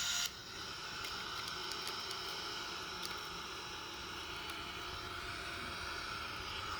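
A steady, even roar of a Boeing 787 airliner climbing just after takeoff, a constant broadband engine and air rush with no voices.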